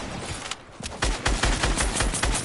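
Rapid bursts of video game gunfire crack out in a steady, rhythmic string of loud shots, starting quieter and growing heavier after a brief lull.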